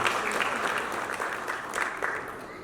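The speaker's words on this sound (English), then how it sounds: "Ladies and gentlemen, clap for the coordination committee of the expo for Uganda" An audience at the Uganda Tourism Trade and Investment Forum in Dubai applauds the Uganda Expo coordination committee, a dense, sustained wash of clapping from a sizable crowd that tapers slightly toward the end.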